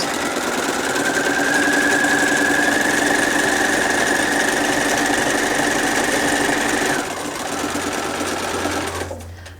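A sewing machine stitches a fabric seam on quilt panel blocks with a loud, steady, fast mechanical whirr close by, slowing slightly near the end before stopping.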